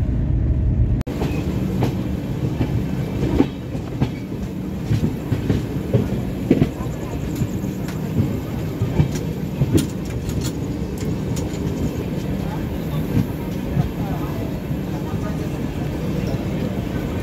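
Tinsukia-Tambaram Express pulling into New Cooch Behar Junction station at night, 15 minutes late: a steady, close rumble of rolling rail cars with scattered clacks and knocks and faint voices in the background.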